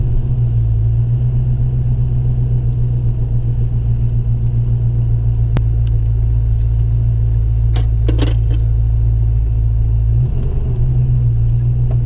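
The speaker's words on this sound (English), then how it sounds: "so let's back out of the garage here" A 1988 Ford Fox-body Mustang rumbles steadily at low speed as it backs out of a garage. The deep engine drone stays close and constant, with a slight shift near the end.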